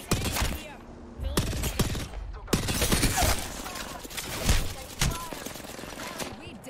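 Gunfire in a competitive shooter game comes as sharp, rapid cracks and short bursts, loud and close, with scattered impact sounds between shots.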